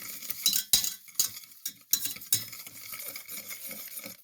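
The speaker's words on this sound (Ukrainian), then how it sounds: "Яйце піддиваю із цукром до розчинення цукру" Egg and sugar are beaten together in a bowl with a whisk, giving close, irregular clinking and scraping strokes against the bowl's sides, with short pauses between bursts.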